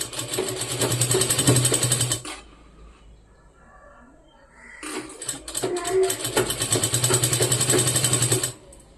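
A sewing machine stitches a belt in bursts, loud steady mechanical running for about two seconds, a pause, then another long run of rapid stitching close by.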